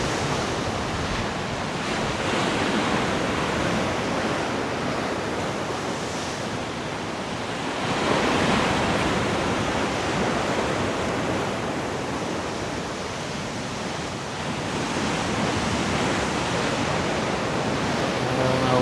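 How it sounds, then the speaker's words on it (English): Big ocean waves break continuously on a tropical North Queensland shore at Port Douglas, a steady loud roar of surf that swells midway through, with wind noise and no talk. "Really big waves coming"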